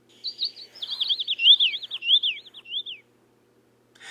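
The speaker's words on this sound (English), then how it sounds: "it sounds like a regular mockingbird, because that's what it is" A recorded mockingbird sample with space effects added: a quick string of warbling, sliding chirps over a faint low hum, fairly loud and close, with no talking, then a short pause.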